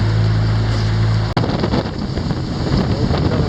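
Wind buffets the microphone on a fishing boat on a calm morning, a loud, steady roar with a low hum at first and one sharp knock early on.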